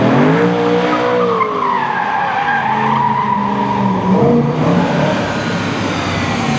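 A BMW M3 Competition E92 with a high-revving V8 is driven hard, its engine roaring loudly and sweeping up and down through the revs, with tire squeal over it and no talking.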